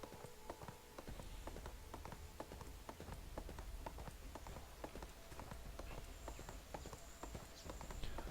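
Rhythmic clip-clop of a horse's hooves at a steady trotting pace in the fantasy game ArcheAge, continuous and moderately close, with faint background ambience and no talking.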